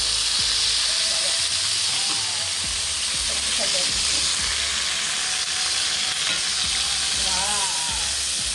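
Meat deep-fries in oil in a Saladmaster pan, a steady dense sizzle and crackle with scattered pops throughout, as a voice talks quietly in the background.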